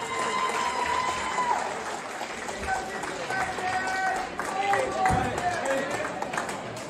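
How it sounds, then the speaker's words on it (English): Crowd at a boxing bout applauding and cheering after a stoppage win, a broad roar of clapping and shouts under an announcer's amplified voice, with whistles and sharp bursts rising near the end. "Give him a massive round of applause"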